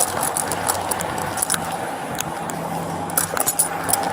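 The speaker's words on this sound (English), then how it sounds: "I'm gonna hold on to the keys then." Keys jangling in bursts of light metallic clinks and rattles, close by, over a low vehicle rumble in the background.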